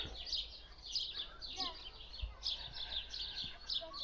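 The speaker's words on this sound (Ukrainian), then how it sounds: "А горобці як співали, так і співають." Sparrows chirp and twitter in bright repeated bursts, fairly close, over a low outdoor rumble, with no talking.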